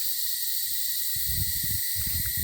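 Cicadas buzz in a summer forest at a national park campsite, a loud, steady high-pitched drone running without pause, with low rustling thumps from movement nearby in the second half.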